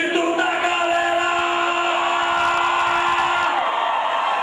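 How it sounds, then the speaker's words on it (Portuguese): Crowd shouting and cheering at a reggaeton show near the border, a steady roar of voices with whoops and yells filling the whole stretch, with music tones running beneath. "Cadê o grito da galera?"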